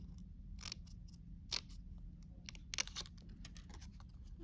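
Scissors snip card into a V shape for a Christmas surprise box, giving several short, close, crisp cuts over a quiet background.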